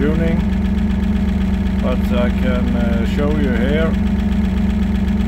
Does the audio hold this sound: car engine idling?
yes